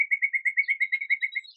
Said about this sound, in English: The birds are singing in agreement. I can hear them.